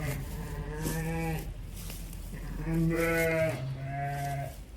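Sheep bleat loudly and close by, two long wavering cries with a shorter third, against a quiet farmyard background.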